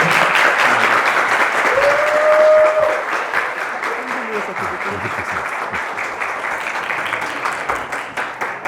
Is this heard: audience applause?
yes